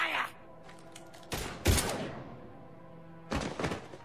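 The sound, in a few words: gunfire in the video game Mass Effect 3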